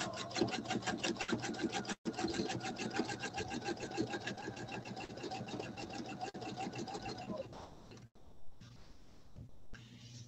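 A sewing machine stitches continuously during free motion quilting, a fast rhythmic needle chatter close by with only brief pauses.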